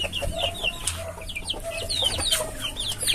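Several chickens cluck and chatter continuously nearby, with overlapping short calls and no talking.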